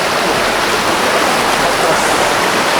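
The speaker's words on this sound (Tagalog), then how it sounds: "Solid na falls, taas." A tall waterfall roars loudly and steadily from close by, a dense, unbroken rush of falling water with no breaks.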